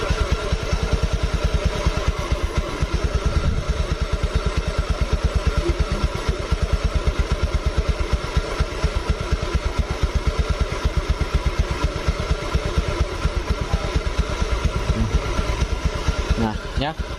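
A Honda Beat scooter engine runs steadily after being restarted, a close, loud, even chugging idle with a rapid regular beat and mechanical clatter that holds throughout.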